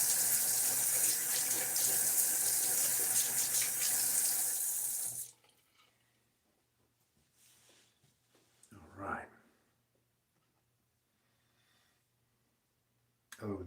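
A bathroom tap runs into the sink as a man wets his face before a wet shave. A steady loud stream stops after about five seconds, then come quieter handling sounds and a brief splash.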